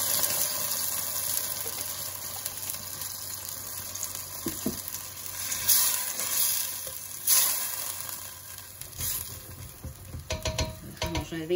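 White wine splashed into hot sofrito over raised heat, giving a steady broadband sizzle that holds through the whole stretch with a few louder bursts and some stirring, close and alone without talk.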